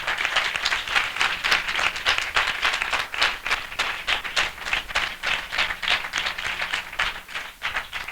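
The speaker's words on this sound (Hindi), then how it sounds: "जोरदार ताली से स्वागत करें।" Loud applause greets the audience at a church worship gathering: sustained, rhythmic clapping from a congregation, steady and full for several seconds with no talking over it.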